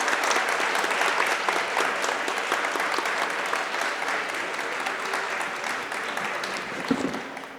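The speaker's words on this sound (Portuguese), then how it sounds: "Quero pedir uma salva de palmas para o nosso convidado." A crowd at a literary festival applauds a guest with sustained, dense clapping that holds steady and broad for the whole stretch, heard from within the audience.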